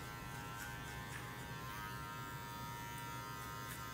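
Electric hair clipper fitted with a number 2 guard cutting a man's hair for a fade, giving a steady close buzzing hum that holds evenly throughout with no talking.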